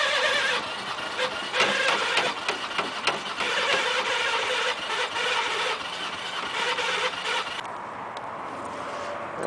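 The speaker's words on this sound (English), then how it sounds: "You can hear that starter." A go-kart engine that is wet and cold from overnight damp cranks on its starter with a continuous, harsh mechanical whir up close before it catches and runs, with no voices.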